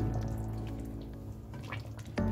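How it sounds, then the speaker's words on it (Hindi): Water poured from a glass into a cooking pot holding goat necks for a Pota Kaleji Gardan masala, a steady close splashing stream lasting about two seconds with a sharper splash near the end. "1 गिलास में इसके अंदर पानी डाल रही हूँ।"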